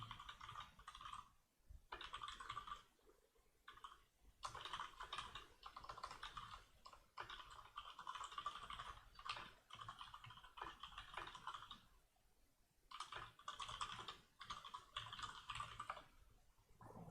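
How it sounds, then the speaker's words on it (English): Typing on a computer keyboard during a game-development live stream, with quiet, rapid clusters of key clicks in bursts separated by short pauses, close but soft throughout. "Okay, so I'm just typing some stuff,"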